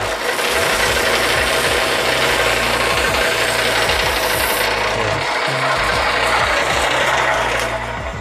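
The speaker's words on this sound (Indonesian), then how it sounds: "tinggal sorong dengan adanya mesin amplas ini" A sanding machine smooths a bamboo craft piece in a village workshop, giving a loud, continuous rough abrasive grind with repeated rhythmic scraping strokes throughout, no talking over it.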